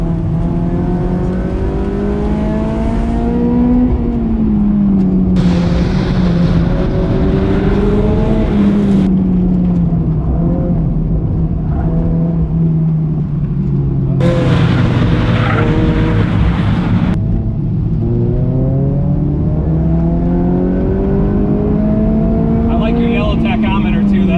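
A modified NC Mazda Miata engine roars steadily as it accelerates hard down a track straightaway, its pitch climbing and dropping through gear changes, loud and close throughout.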